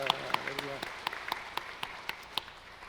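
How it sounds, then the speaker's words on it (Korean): A church congregation claps in scattered, uneven bursts, fairly thin and brief, with a voice speaking briefly in Korean at the start. "오늘 이 자리에 계신 우리 하나님께 영광의 박수 올리겠습니다"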